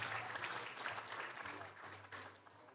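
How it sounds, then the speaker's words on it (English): Audience applause for a Category 1 referee at the 2024 USA Powerlifting New York State Championships, a steady broad wash of clapping throughout, moderately faint and distant in a hall. "Give her a big round of applause"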